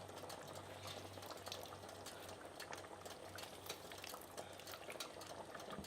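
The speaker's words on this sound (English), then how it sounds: "So I'm going to let that simmer uncovered now until I can see that a lot of that gravy has reduced." Curry sauce with lemon simmers uncovered in a pot, a steady, dense bubbling and low hum that continues evenly throughout, with no talking.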